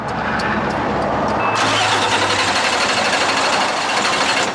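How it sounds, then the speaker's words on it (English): A diesel 5-ton truck engine cranks steadily while air is bled from its fuel lines, a loud continuous grinding churn that shifts partway through into a harsher, denser rattle, with no talking. "He cranks it until we see fuel."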